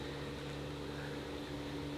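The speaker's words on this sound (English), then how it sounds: "This is obviously a boat for day visitors." A steady low drone of a day-visitor boat engine chugging past nearby on a canal in Derbyshire, UK, constant hum with no voices.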